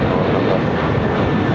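Airplane taking off from a runway at LAX, a loud continuous roaring engine rumble, steady and close throughout the short stretch.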